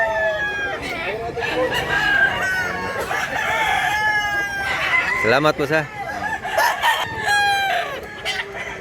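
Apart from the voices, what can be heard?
roosters crowing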